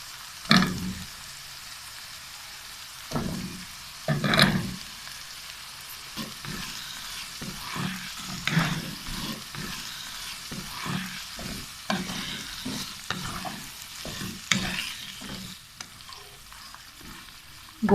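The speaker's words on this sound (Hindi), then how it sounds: "गोभी और आलू को अच्छी तरह हमने भून लिया है" Cauliflower and potato pieces frying in a pan for aloo gobi, a soft sizzle broken by repeated scraping and clattering bursts as a spatula stirs them, close by, no voices.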